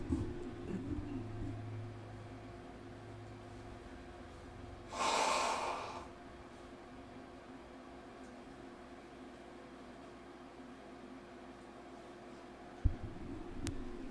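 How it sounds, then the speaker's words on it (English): A person blows their nose once, a short breathy honk standing out against a quiet room with a faint steady hum of fan or air conditioning. "I need to blow my nose."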